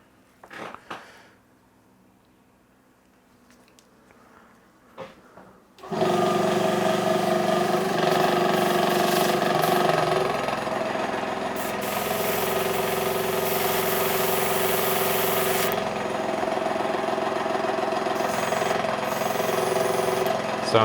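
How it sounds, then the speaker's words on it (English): An airbrush spraying acetone through itself for cleaning, a loud continuous close hiss that starts abruptly after a few seconds of quiet clicks and holds steadily to the end. "I'm just going to give a couple of passes of acetone through the airbrush to make sure it's clean the way we want"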